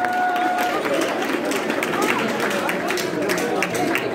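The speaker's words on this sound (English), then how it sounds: "Give them a round of applause." Sustained applause and crowd noise at a boxing event after sponsors are introduced, a steady wash of clapping and chatter with a brief tone near the start.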